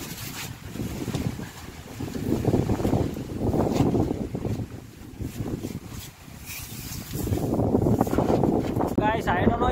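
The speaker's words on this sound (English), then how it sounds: "It's so windy right here." Strong wind gusts buffet the microphone at a cave entrance on Maruthwa Malai in Kanyakumari, Tamil Nadu, coming in loud rumbling waves with brief lulls, while a person talks near the end.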